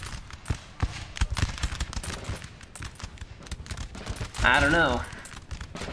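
Musket volley fire from grenadiers in Napoleon Total War, heard as scattered crackling shots and a rolling volley over battle ambience, with someone talking briefly over it.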